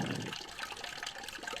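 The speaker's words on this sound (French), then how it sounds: "Et après, on va remplir l'eau. Là, c'est simple parce que c'est juste un robinet." Water from a tap fills a tank in a pet shop simulator game, a steady splashing pour with trickling texture, close and continuous without talk.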